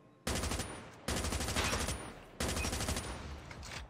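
Rapid automatic gunfire in Call of Duty Mobile, three sustained bursts of loud, dense shots separated by brief pauses, with no talk over them.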